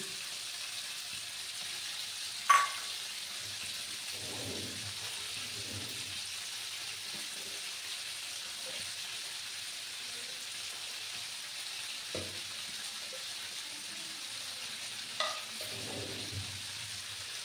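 Sliced potato and chopped onion frying in a pan for semolina upma, a quiet continuous sizzle with a few soft stirring scrapes and a couple of sharp clinks, no talk.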